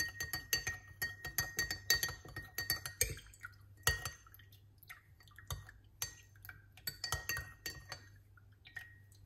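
A spoon clinks and stirs against a glass while mixing cayenne pepper and lemon juice into a drink, giving a run of bright rapid taps followed by sparser, quieter clinks.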